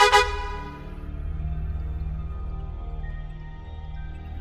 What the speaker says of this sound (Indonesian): di kejauhan, suara klakson bus itu terdengar lagi